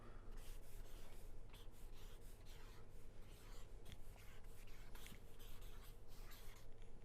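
A green pen writing on a surface, heard as a steady, close scratching and rubbing that runs through the whole stretch, with quiet background noise underneath.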